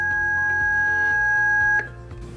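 DKS 1830 Series telephone entry system giving a long steady electronic beep as it exits programming mode, sustained for nearly two seconds before cutting off, close and clear.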